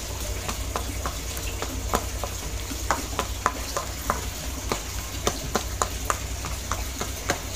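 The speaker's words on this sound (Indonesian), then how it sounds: "Aduk lagi." Fishing bait dough mixed with quail egg being stirred by hand, a rapid series of sticky slaps and clicks over a constant low hum, close and fairly loud, no voices.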